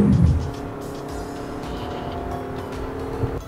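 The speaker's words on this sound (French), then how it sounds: "Le rétrogradage, le fait de pouvoir passer les vitesses de façon manuelle comme ça vous offre de bien monter dans les tours." A 2.5-litre car engine revs up during a manual downshift, a steady mid-pitched drone with a brief louder burst at the start, heard from inside the cabin with no talking.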